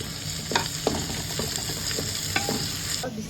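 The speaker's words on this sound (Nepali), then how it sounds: "अब सँगसँगै हामी खुर्सानी पनि भुट्छौँ।" Chillies fry with onions and spices in a pan for mutton curry, a constant close sizzle broken by repeated scraping stirs of a spoon against the pan.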